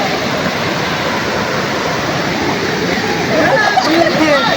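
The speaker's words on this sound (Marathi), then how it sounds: "पाणी दाखवतो तुम्हाला वाहत येते आवाज येते पाण्याचा" Water pours down a rocky ledge into a Konkan village stream, making a loud, steady rush of broadband splashing that thickens slightly toward the end.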